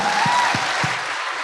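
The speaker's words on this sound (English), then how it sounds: "give a round of applause for the people who put on this convention" A convention audience applauds, a dense wash of clapping from a crowd that holds steady through the moment and then tapers slightly.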